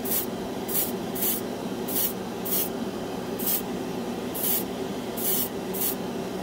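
Short bursts of an airbrush spraying cheap metallic craft paint through a $150 dual-action airbrush, about nine hissing puffs in an irregular rhythm over a steady compressor-like hum, close and fairly loud, with no talking.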